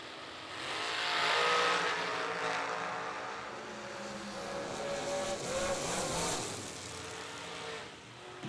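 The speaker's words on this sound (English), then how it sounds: "Another great drag race" Drag racing cars at a Thursday race launch down the strip, a loud engine roar that swells and fades as the pair pull away, heard from the stands with no voices.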